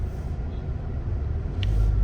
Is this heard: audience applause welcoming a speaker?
no